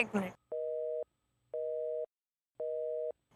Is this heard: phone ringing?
yes